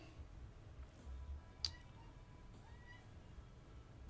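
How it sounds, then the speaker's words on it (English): A cat lets out a single short meow partway through, faint and somewhat distant over a low, steady background hum, with no one talking. "Yeah, you hear the kitty."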